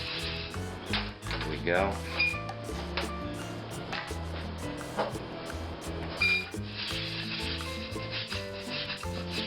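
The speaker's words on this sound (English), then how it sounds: "Just go ahead and work that around because I want to get oil on all of the rice." Rice being stirred and toasted in oil in a pan, giving a steady soft scraping and sizzling with a few clinks, close up and continuous under background music and brief talk.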